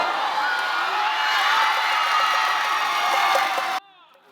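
A cinema crowd watching a Korea–Japan baseball broadcast roars and whoops after a hit, a sustained loud burst of cheering that stops sharply near the end, leaving a faint trace of voices.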